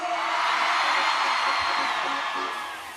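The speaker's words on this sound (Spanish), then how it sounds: "Vos sabés que se escucha el grito de muchos" A large outdoor concert crowd at the Río Gallegos 139th anniversary celebration roars and cheers in a continuous loud wash of shouting that tapers slightly toward the end.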